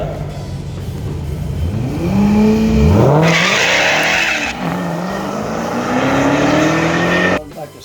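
A Mopar drag car launching at a drag strip, its engine revving hard and rising in pitch with a burst of tire squeal, loud and close, then the roar cutting off abruptly.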